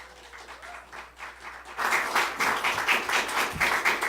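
Applause from a comedy show audience after a story, starting as scattered rhythmic clapping and then swelling into louder, fuller applause midway that continues steadily to the end.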